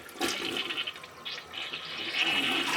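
A toilet flushes in the neighbouring bathroom stall, a rushing, gurgling swirl of water that holds steady for a few seconds at moderate volume.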